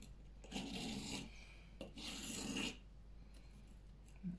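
A knife blade being sharpened, a steady grinding rasp along its edge in two long strokes followed by lighter scrapes, close and clear with no talk.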